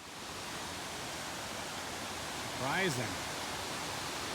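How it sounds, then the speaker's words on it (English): A mountain waterfall along a backpacking trail produces a steady, dense broadband rush throughout, with a brief whistle or voice-like sweep rising over it midway. "Surprising cool waterfalls coming down this trail."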